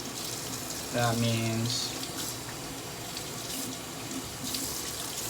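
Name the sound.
tap water running while rinsing shaving soap lather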